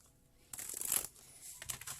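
Tarot cards are shuffled in a brief riffle, a crisp papery flutter that bursts up, dies down and returns with a second quicker riffle, heard close and alone.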